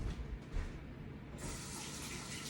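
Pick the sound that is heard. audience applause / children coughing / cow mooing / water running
water running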